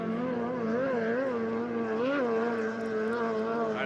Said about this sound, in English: I love the sound of that Malden boat.